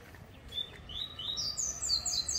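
A songbird chirps a quick run of high, rising notes that speed up toward the end, over faint background noise.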